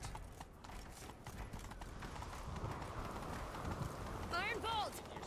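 A horse gallops in The Witcher 3 with continuous rhythmic hoofbeats under a rough bed of movement noise, and a sharp whinny rises near the end.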